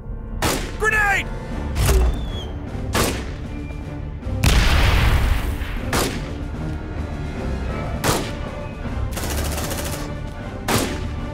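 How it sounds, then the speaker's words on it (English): A grenade blasts in Aliens: Dark Descent, one loud rumbling explosion about halfway through, set among sharp gunshots and thuds spread across the scene, with game voices talking in between. "Grenade!"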